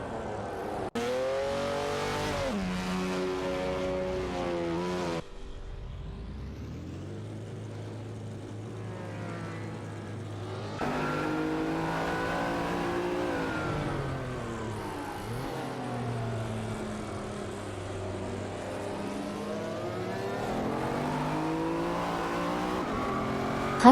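Engines of race cars in an AI racing game whine and rise in pitch as they accelerate and pass one after another, loud and continuous for the whole stretch, with no talk.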